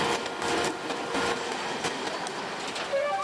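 A metro train runs in an animated series, a steady, fairly loud rumbling roar with faint rattling that continues throughout, ending with a brief thin squeal.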